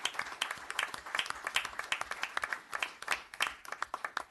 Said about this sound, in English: if we get a round of applause